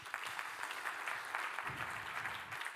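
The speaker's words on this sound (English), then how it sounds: "Give him a round of applause." Audience applause at a radio industry conference session, a steady wash of clapping from a room full of people that holds at an even level throughout.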